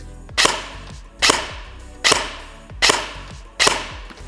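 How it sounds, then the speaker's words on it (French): Airsoft AEG replica fired without magazine or BBs, reaching about 85 decibels: five sharp, loud bursts spaced roughly evenly, each a crisp snap with a brief mechanical whir trailing off, no voices. "On va mesurer le bruit que fait un AEG"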